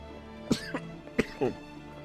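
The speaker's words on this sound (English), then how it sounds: "Sorry for all the coughing." A person coughs several times in short, rough bursts, close to the microphone over a faint video game soundtrack.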